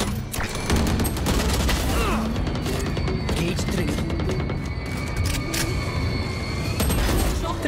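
Gunfire from the Valorant tactical shooter, with bursts of shots, loud impacts and crashing effects layered over busy game sound, with no voices.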